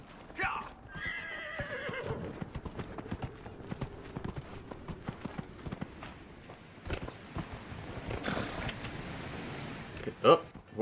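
A horse in the Dragon Age Inquisition video game whinnies loudly near the start, then hooves clip-clop in a steady gallop with some splashing and mechanical bumps, and a voice talks briefly.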